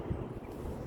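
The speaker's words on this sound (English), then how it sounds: "It's a bit windy today." Outdoor wind gusts buffet a microphone in a low, steady rumble, continuous and close throughout.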